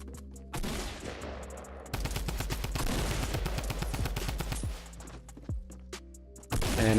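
Fortnite gunfire during a close fight near a house, with bursts of rapid shots and sharp individual cracks, short pauses and a heavy flurry in the middle, with no voices.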